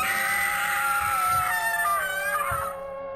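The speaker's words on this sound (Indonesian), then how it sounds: "Anita berteriak." A woman's long, sustained scream from a horror story about a sundel bolong ghost, loud and close, with a wavering pitch that slowly falls before it cuts off, heard alone with no talk.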